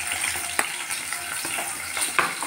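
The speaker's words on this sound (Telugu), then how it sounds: "ఆయిల్ వేడెక్కాక ఉల్లిపాయలు పచ్చిమిర్చి వేస్తున్నాను." Sliced onions and green chillies frying in hot oil for a mutton curry, a steady close sizzle with a few sharp clicks of stirring on the pan.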